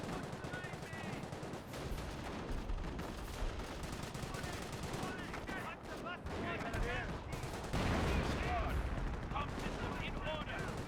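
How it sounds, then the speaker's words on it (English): Scope rifle gunfire from a British squad in Company of Heroes, scattered sharp shots mixed into a dense battlefield din of other guns and explosions, moderately loud throughout with occasional voices. "Scope rifle from Bren's squad engaging."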